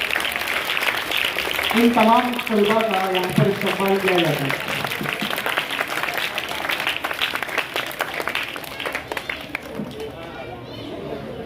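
Steady applause from a school assembly crowd welcoming prize-winning students rises under a man's amplified announcement and continues as dense, even clapping to the end.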